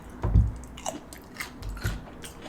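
Close-up crunching bites of cucumber and chewing, a few loud crisp crunches followed by wetter mastication sounds, no talking.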